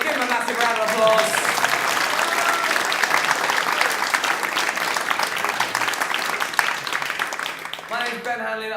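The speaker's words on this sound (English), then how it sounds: "Give him a massive round of applause." A comedy show audience at the Pleasance gives loud, sustained applause with scattered cheers, then it thins at the end as a voice comes in.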